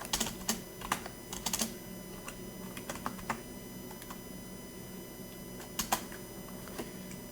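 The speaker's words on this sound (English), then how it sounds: "Type systemctl enable ts3 server." Someone types a command on a computer keyboard during a CentOS 7 server setup, with quick bursts of key clicks, pauses between words and a faint background hum.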